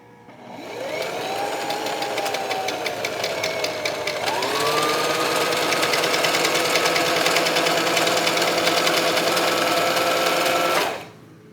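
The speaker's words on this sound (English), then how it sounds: "Let's see if we can sew this little piece of fabric." A sewing machine running on a small piece of fabric, whirring steadily for about ten seconds, picking up to a slightly higher, faster pitch partway through, then stopping abruptly; loud and close, with no talk.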